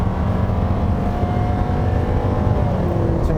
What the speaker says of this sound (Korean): 자, 그러면 가속을 한번 해보면